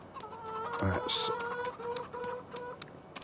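Farming Simulator 25 chickens on PS5 clucking in short, repeated bursts close by, heard under a person talking throughout.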